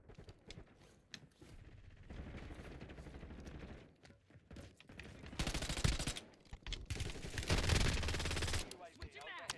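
Rapid bursts of video-game gunfire and machine-gun fire crackle loud and near in a firefight inside a building, with a heavy sustained barrage late on, under excited talk from players.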